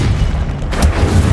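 A fiery Incendio spell cast in Hogwarts Legacy gameplay, a short low rumbling whoosh with a soft burst partway through, loud and alone without talk.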